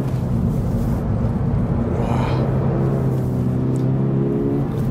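A Toyota GR86 engine pulls under throttle in third gear, a steady close-up drone with rising harmonic tones through the cabin, loud and continuous with no talk.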